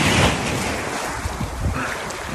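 Ocean surf rolls onto the rocky shore of a Barcelona beach in December, a loud continuous wash of waves with heavy wind buffeting the microphone.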